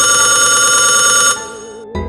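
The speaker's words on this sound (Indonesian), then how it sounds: "telepon rumah di atas berdering lagi" A house telephone rings in a horror story scene, loud electronic bell-like trills with dense tones, a long ring that drops off, a brief gap, then the ringing starts again.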